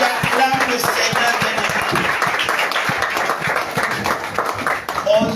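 A church congregation at a French-language service applauds and cheers together. Dense, steady clapping fills the whole stretch, with voices mixed in.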